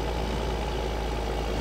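A tractor engine in the video game Farming Simulator 2013 drones steadily, a dense, even low-pitched hum running unbroken and close, with no voices.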